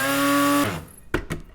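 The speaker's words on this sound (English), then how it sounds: "So I'm going to use my little herb grinder here." A small electric herb grinder whirs with a steady motor hum as it grinds chia seeds, then cuts off abruptly, followed by a couple of soft knocks and rattles.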